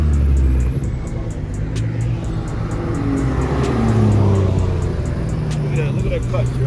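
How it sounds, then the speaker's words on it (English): Alpha-tuned Nissan GT-R accelerating hard past on the road, a loud rising engine roar with changing pitch sweeping by close, while people talk over it. "that was an Alpha Tune GTR"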